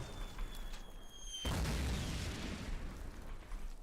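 Mortar fire in Call of Duty 2 lands as a heavy, close boom that breaks in suddenly after a quieter stretch with a faint whine. A long rumbling roar follows and keeps the scene loud.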